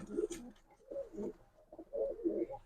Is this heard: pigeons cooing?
yes